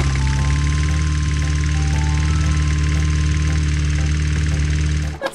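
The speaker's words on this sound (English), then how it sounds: "This is a green lawnmower." A green toy lawnmower at an indoor play place gives off a steady, loud mechanical engine hum with a fixed buzzing pitch, running without a break and alone, then cutting off abruptly at the end.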